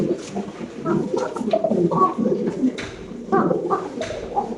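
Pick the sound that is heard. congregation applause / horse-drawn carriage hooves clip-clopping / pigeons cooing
pigeons cooing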